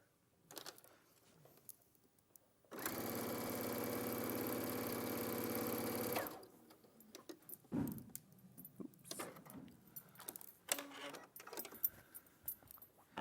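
A sewing machine runs steadily for about three and a half seconds, stitching the final stretch of a partial quilt seam. Quieter handling noises come before and after it.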